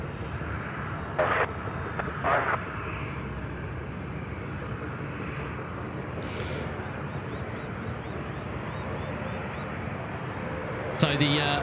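A jet takes off from runway 34 left at Sydney Airport, its engine roar a steady distant rumble under ongoing talk, broken by a few short sharp bursts of noise.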